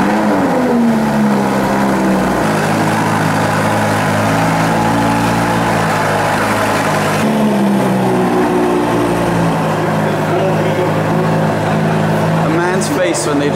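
A Lamborghini Huracan engine runs loud and close, with steady harmonic drone that steps up in pitch in stages and shifts again midway, like repeated revving after start-up.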